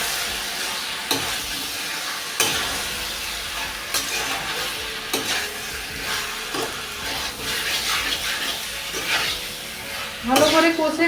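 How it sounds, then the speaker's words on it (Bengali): Chicken sautéed in a pan with salt and black pepper paste gives a steady sizzle broken by periodic scraping stirs, close and fairly loud, with some background voice. "ভালো করে কষে নেব।"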